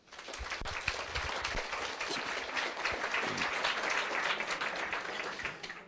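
An audience at a talk on genome sequencing applauds an arriving guest, a full, even wash of clapping that rises quickly and carries on steadily throughout.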